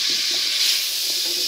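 Red kuri squash cooking in oil in a pan gives a steady, close sizzle and hiss with faint low bumps from the pan and no talk over it.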